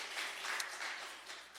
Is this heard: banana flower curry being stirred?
no